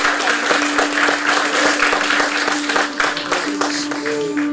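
Dense applause from an audience, many hands clapping steadily and fairly close, with a faint sustained tone underneath.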